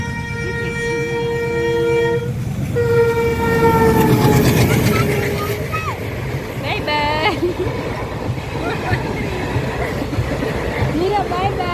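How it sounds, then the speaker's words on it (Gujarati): A train passes slowly at a railway crossing, its horn blaring in long sustained blasts and wheels rumbling, while people chat nearby and a siren-like warble rises in the background. "આ બાજુથી ટ્રેન આવે છે"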